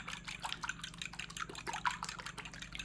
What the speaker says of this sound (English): I'm just gonna whisk this up